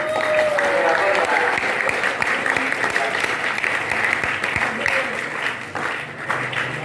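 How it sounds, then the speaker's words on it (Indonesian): A congregation at an Isra' Mi'raj religious gathering applauds the santri students, sustained dense clapping filling the room at steady loudness, with some voices mixed in beneath it. "Tepuk tangan untuk santri-santri."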